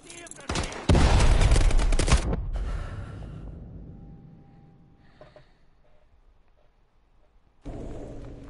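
A loud flashbang burst and rapid gunfire erupt in Call of Duty: Advanced Warfare, dense and close for about a second before fading into a ringing hum, then another burst of fire at the end.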